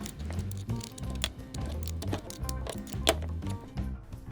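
Boxed-end 14mm wrench tightening a banjo bolt on a Lincoln grease gun, producing a rapid run of close metallic ratcheting clicks and taps with a faint hum underneath.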